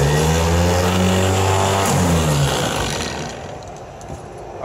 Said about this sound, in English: what we were listening to for there was a smooth sounding operation of the starter